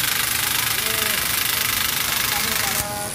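A motorized tufting gun works on a hand-made carpet with a steady buzzing, rapidly pulsing motor drone, loud and close, under someone talking.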